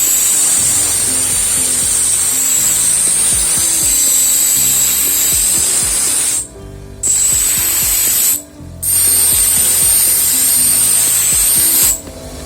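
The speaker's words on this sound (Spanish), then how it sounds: "yo ahora la voy a pasar por la lijadora" An electric sander smooths the rough edge of a freshly cut ceramic tile piece, giving a steady, loud, high grinding whine that stops briefly twice and then resumes.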